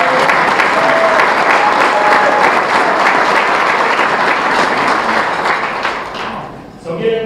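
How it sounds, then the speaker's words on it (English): A high school basketball association's annual banquet audience gives a loud, sustained round of applause, the clapping steady and full before tapering off at the end. "So let's give her a big round of applause"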